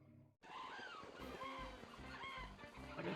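A chicken hawk enemy in a Donald Duck video game calls out over busy game music, with a few sweeping cries rising and falling across the short stretch after a brief silent start.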